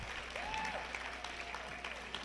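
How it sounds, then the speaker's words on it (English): Audience applause for school staff at a Blue Ribbon school celebration, a short, fairly faint burst of clapping heard from a distance in a large space. "The students, give them a nice round of applause."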